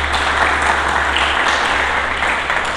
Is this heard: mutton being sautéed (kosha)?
no